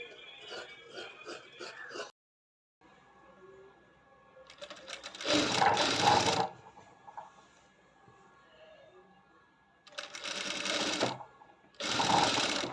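A sewing machine stitches a bias strip onto a U neckline, running in short whirring bursts with rapid needle clatter between quiet pauses, close and fairly loud, alone without talk.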